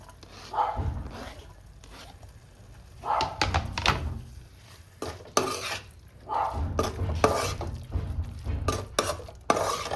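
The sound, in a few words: adding chopped capsicum to mushroom fried rice in a pan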